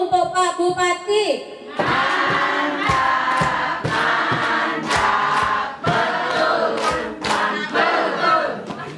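An audience at a health-centre event does a rhythmic 'tepuk mantul' clapping chant, with a crowd of voices shouting in unison over sharp, evenly spaced group claps that repeat steadily for several seconds after a brief spoken lead-in.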